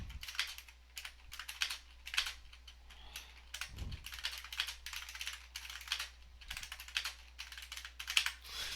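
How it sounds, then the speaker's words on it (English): Rapid, close clacking of a computer keyboard as a command is entered, with an irregular rhythm of keystrokes and a dull thump midway over a faint low hum. "I've typed that command way too many times lately."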